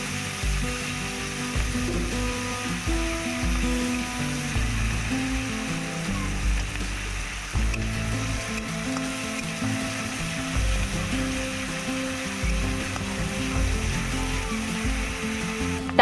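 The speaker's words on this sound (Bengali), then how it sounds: "কড়াইতে সরিষার তেল আর পেঁয়াজ বাটা আর গোটা রসুন দিয়ে ভালোভাবে মিক্সড করে লাল লাল করে ভাজা করে নিতে হবে।" Onion paste and whole garlic fry in mustard oil in a wok for a Bengali fish kalia, a steady close sizzle with occasional scraping from stirring.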